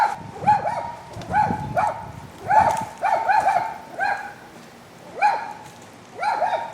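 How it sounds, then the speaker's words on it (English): A dog barks repeatedly in irregular bursts, some single barks and some doubled, fairly close, with no talking. "Not my dogs."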